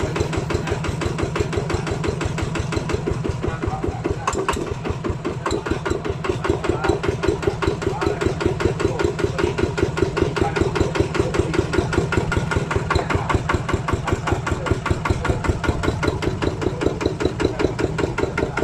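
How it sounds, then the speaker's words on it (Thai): A Yanmar TF150 single-cylinder 15 hp diesel engine, a new Indonesian-built unit, idles at low speed with a steady, rapid chugging beat, loud and close throughout with no talk. "เดินรอบเบานะครับ"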